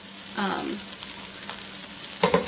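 Tomato paste being stirred into softened vegetables in a pot, a soft sizzle running throughout with faint scraping and a few sharper spoon knocks near the end.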